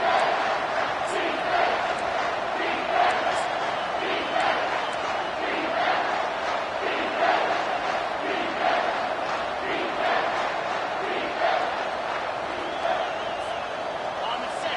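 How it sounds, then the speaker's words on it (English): Stadium crowd roar in the College Football 25 video game as fans urge the defense toward a red zone stop, a steady, swelling wall of voices with a commentator talking over it throughout. "This crowd is trying to inspire this defense to make a big red zone stop"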